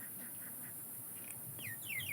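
Ducks at a duck farm, with a few faint, scattered calls and quacks over a steady hiss of background noise, growing slightly louder toward the end.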